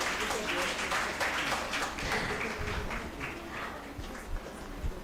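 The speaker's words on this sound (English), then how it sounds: "A round of applause, please, to just show our encouragement and appreciation." Audience applause at the EQUINOX-2025 event, a steady wash of many hands clapping that carries on evenly for several seconds, moderately loud, with faint voices mixed in underneath.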